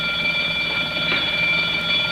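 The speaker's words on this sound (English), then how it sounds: "The alarms are functioning perfectly all over the bank." Bank burglar alarm ringing continuously in a 1950 television serial, a loud steady electric bell tone that holds without a break, with no voices over it.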